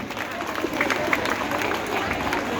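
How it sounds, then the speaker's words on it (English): A studio audience on a quiz show claps in a steady, moderate wash of applause with some scattered crowd noise, sustained throughout without a clear peak. "give her a huge round of applause"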